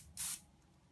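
A single short burst of an aerosol hairspray can, a brief close hiss that stops quickly and leaves quiet room tone.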